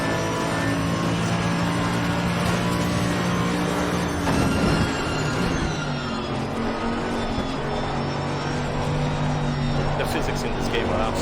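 Race car engine from Assetto Corsa Competizione gameplay on Xbox One X, a steady loud drone with a brief rise in revs around the middle, continuous throughout.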